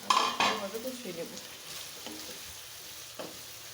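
Fried banana, tomato and capsicum stir-fried together for a pangas fish bhuna, with a few sharp clanks of a spatula on the pan at the start, then a softer sizzle and occasional scrapes.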